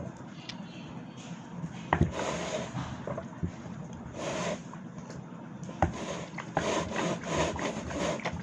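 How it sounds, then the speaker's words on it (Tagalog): Soft, uneven scrubbing strokes work at a stain with toothpaste, quiet rubbing passes broken by sharper scrapes and knocks, close by and alone. "Kailangan siguro matagalis-gis para matanggal siya"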